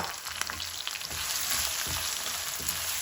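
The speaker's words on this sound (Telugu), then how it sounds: "కూరకు అయ్యేటట్టు ఉల్లిపాయలు మంచిగా సాఫ్ట్గా అయితే బాగా చాలన్నమాట" Onions frying in a pan until soft for a bitter gourd curry, a steady close sizzle with occasional stirring scrapes and small pops, no talking.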